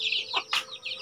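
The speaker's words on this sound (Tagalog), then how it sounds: "Ang manok na yan." A silkie and Rhode Island Red cross chicken on a free-range farm gives several quick, close clucks in short bursts.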